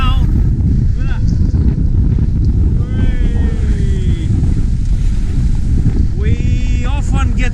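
Large ocean waves of about 3.8 meters slap the hull of a sailboat at sea between New Zealand and Fiji. Loud, constant wind roar and rushing water fill the sound, with occasional brief voices.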